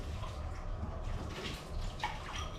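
Running tap water streams continuously onto a plate being washed in a sink, with soft splashing and clatter close by, no talk.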